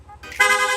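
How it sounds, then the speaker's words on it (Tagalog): A rapid horn on a Yamaha Aerox 155 scooter gives one short, bright, fairly close blast after a brief lull. "Rapid horn."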